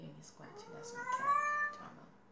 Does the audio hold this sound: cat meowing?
yes